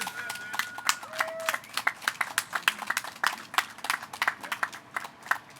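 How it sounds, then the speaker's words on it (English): Audience applause at a press conference for Waymap with WMATA and the District of Columbia, a crowd clapping in dense, uneven bursts that carries on throughout at moderate loudness. "Could you please give a big round of applause?"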